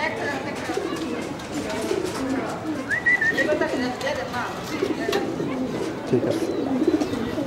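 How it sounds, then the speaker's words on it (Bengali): A khaki pigeon cooing in low, throaty repeated calls close by, mixed with other bird sounds and people talking nearby. "কবুতরটা মাশাল্লাহ অনেক সুন্দর"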